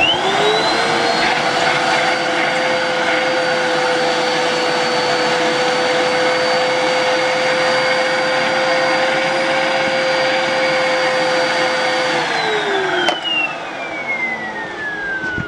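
A Hoover vacuum cleaner runs close and loud with strong suction, giving a steady roaring whine. Near the end the motor is switched off and its pitch slides down as it winds to a stop. No voices are heard.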